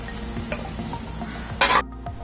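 Grated carrot and mixed vegetables stirred in a frying pan, a steady low sizzle with repeated scraping strokes and one brief loud burst of hissing near the end.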